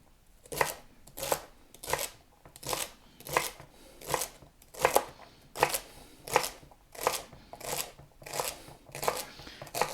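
Ingredients for chicken noodle soup sliced with a knife on a cutting board: about a dozen crisp, evenly spaced cuts, close and moderately quiet, in a steady rhythm with no talking.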